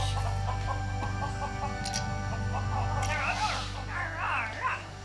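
Chickens clucking and a rooster-like call in the video game Lego Worlds, over a constant low hum, with short synthetic bird sounds repeating in an uneven rhythm.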